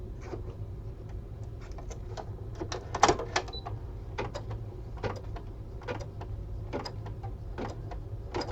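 An embroidery machine stitches a Valentine card in the hoop using a light-colored thread, a steady run of quick mechanical needle taps and whirring, close and moderately loud, with no talking.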